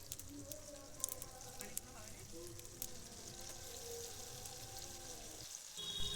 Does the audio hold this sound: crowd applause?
no